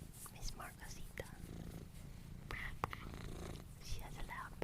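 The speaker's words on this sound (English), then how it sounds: "She has a loud purr" A cat purrs softly up close, a low rumbling hum with faint rustles and breathy sounds around it.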